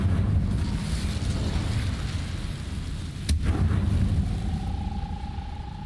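A fire spell goes off in the Hogwarts Legacy video game: a sharp, crackling whoosh bursts out about halfway through over a constant rumbling game background.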